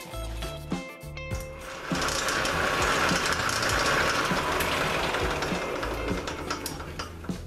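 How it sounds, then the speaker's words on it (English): Wood lathe switched on at its slowest speed with a sassafras log mounted for bowl turning, a few knocks and clunks before the motor rises into a sustained rumbling, rattling whir. "I check the speed of the lathe, make sure it's on the slowest speed"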